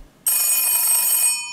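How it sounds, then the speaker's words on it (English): An old rotary dial telephone's bell rings, a single loud, bright metallic burst that starts abruptly after a brief silence and rings on for over a second. "Ah, the dial rotary phone."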